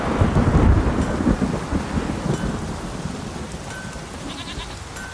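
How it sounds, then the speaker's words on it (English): Heavy rainfall with rolling thunder in The Witcher 3, a deep rumble swelling loudly at first and then fading under the steady hiss of rain. "Raining again."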